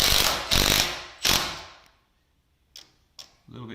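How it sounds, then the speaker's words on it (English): A screw driven into the wall of a timber cabin kit: two short bursts of ratcheting, grinding turns, then silence broken by a couple of faint clicks and a soft knock near the end. "Now we're going to screw it back in"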